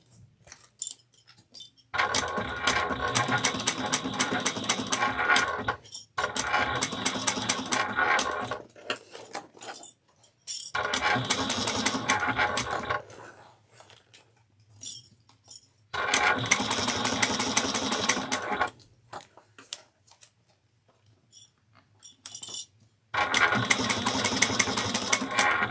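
A sewing machine bastes a quilt for a small quilted beast, running in close, rapid stitching bursts of several seconds each, separated by short pauses of near silence.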